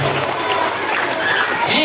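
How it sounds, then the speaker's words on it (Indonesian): An audience at a children's Maulid Nabi celebration claps for the children. The applause is dense and continuous and sounds close, with crowd noise mixed in. "Tepuk tangan buat anak-anak soleh."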